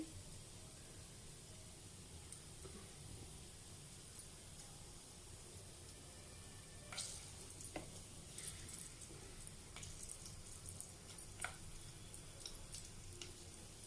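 Green chillies frying in a couple of spoons of hot oil over low flame, a faint soft sizzle with scattered small pops and crackles growing more frequent midway.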